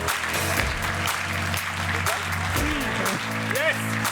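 An audience at a presentation applauds a speaker, scattered claps sounding over a steady background hum, with some voices and talk mixed in.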